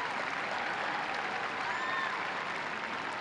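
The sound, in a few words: stadium crowd applauding a substituted football player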